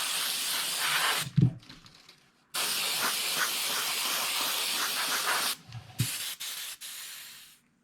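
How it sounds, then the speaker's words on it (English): Quick coats of PVA polyvinyl alcohol sprayed onto crappie fish replica molds: two long, steady airy hisses from a nearby spray gun, separated by short pauses, with a brief final burst. "The next thing we do is spray a couple quick coats of PVA,"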